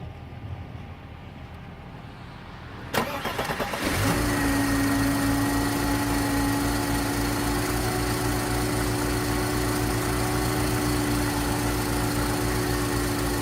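A cold Mercedes 300SEL engine cranks briefly, fires up after a few seconds of quiet and settles into a steady, close idle hum that continues to the end.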